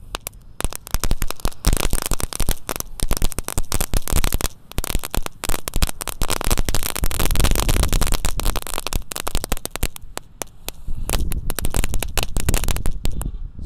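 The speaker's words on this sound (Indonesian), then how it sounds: "Lanjut sore ini yang kita nyalakan ada mercon telur dino pratek" A pack of dino egg firecrackers burning, throwing red, blue, yellow and green sparks, with dense continuous crackling and popping that swells and thins in bursts, close and loud throughout.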